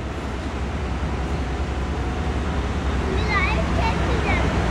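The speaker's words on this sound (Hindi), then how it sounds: "अब ये देखो ये आ रहा है लोकोमोटिव" A locomotive pulling into Lahore railway station, with a broad, continuous low rumble of rolling stock and a faint high squeal near the end. It all sits under the station's general background noise.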